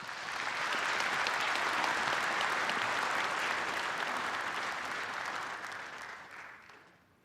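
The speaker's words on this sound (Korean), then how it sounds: "여러분 큰 박수로 맞이해 주시기 바랍니다." Sustained audience applause welcoming a choir of all ages with a four-man male vocal group, loud and dense throughout, then tapering off at the end with no talk over it.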